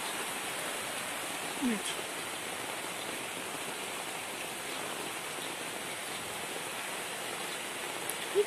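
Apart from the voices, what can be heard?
pouring rain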